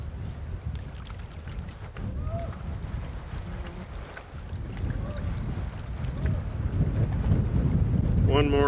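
Strong wind buffets the microphone at a lakeside fishing spot in grizzly country, a continuous rough roar that builds toward the end, with brief faint voices.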